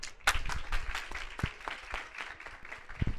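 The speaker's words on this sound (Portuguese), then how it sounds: "Uma salva de palmas para ele," Audience claps to welcome a guest onto a live podcast stage at a fair, scattered uneven hand claps with a few sharp close ones, fairly sparse and lively.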